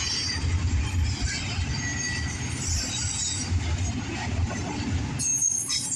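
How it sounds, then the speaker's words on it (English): A southbound CSX double-stack freight train rolls past nearby with a continuous heavy rumble of wheels and cars, occasional squeals and clanks, and a brief sharper burst near the end. "Southbound CSX double stack."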